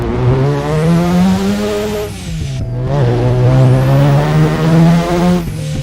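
A rotary engine car in a video game revs loudly up and down through gear changes, with a brief dip between pulls and a buzzy, rising whine.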